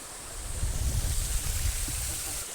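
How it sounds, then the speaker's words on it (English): A small waterfall on a calm river, steady rushing water wash heard close and continuous with some wind buffeting, no talking. "it's a little waterfall here"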